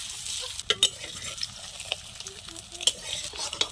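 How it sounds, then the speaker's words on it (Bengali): An aloo paratha frying in oil in a kadai, giving a soft continuous sizzle close by, broken by a few sharp clicks and taps of a utensil against the pan. "পরোটা আমি ভালো করে ভেজে নিচ্ছি"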